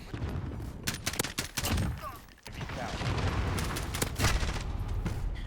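An M4 rifle fires through a wall in Call of Duty Modern Warfare, sharp single shots cracking in a quick irregular string, with a brief pause, then more shots over a steady background rumble.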